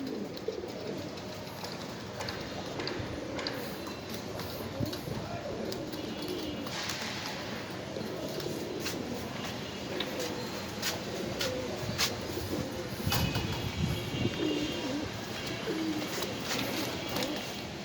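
Pigeons on a pigeon farm coo steadily throughout, with overlapping soft calls, wing flutters and a busy low background of many birds close by.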